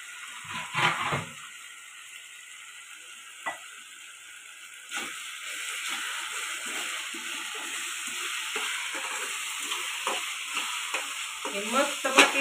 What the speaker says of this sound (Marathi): चांगलं तळून तळून घ्यायचं.